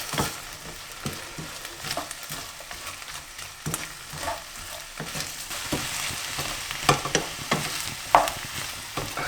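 Onions sizzle and crackle steadily in a hot pan for a chicken curry, with occasional scrapes and stirring knocks, close and fairly loud with no talking.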